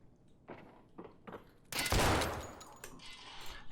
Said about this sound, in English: He has a shotgun.